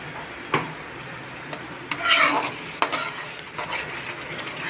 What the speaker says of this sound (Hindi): तो इसमें हम डालेंगे टमाटर का पेस्ट।